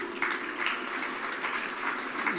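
Guests at a French consulate's July 14 reception in Rabat applaud in a soft, steady patter of clapping, fairly distant and uniform throughout.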